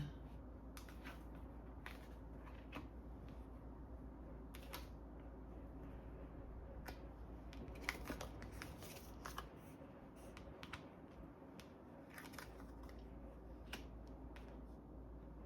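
Tarot cards are turned over on a table in a quiet room, giving a series of soft, close flicks, snaps and shuffling rustles spread through the stretch.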